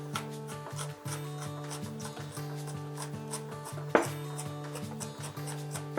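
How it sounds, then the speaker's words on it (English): A knife rapidly minces a sweet onion on a cutting board, giving quick, light, rhythmic taps that sit under steady background music with no talking. "Now that it's all chopped, we can mince it a little bit finer"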